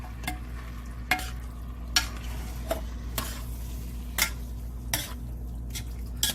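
Canned garlic and roasted tomatoes stirred into a pot of turkey chili with beans, with a spoon scraping and knocking against the pot roughly once a second over a low background, no talking.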